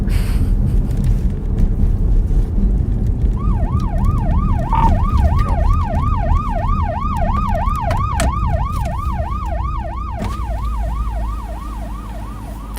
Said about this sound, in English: That's our siren.